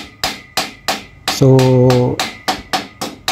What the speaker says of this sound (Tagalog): Pinupukpok ko lang ng martilyo para maglapat yung mga dulo para walang butas, hindi nakaangat.